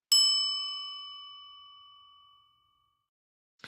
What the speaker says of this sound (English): Something will ding. Well, it won't ding like that unless you set it up to ding like that.